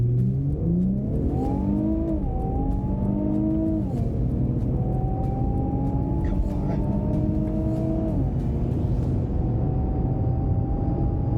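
A Mercedes C43 AMG and an Infiniti Q50 Red Sport launch hard from a standstill without launch control, engines climbing through gears in repeated rising whines with shift drops, loud and sustained.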